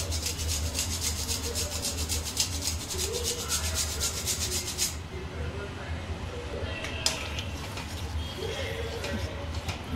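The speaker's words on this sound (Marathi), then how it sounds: "थोडंसं जायफळ किसून टाकते याच्यात," Nutmeg grated by hand into a sweet moong dal and jaggery filling, giving a steady dry rubbing and scraping for about five seconds, then quieter stirring and kitchen noises, with no talk.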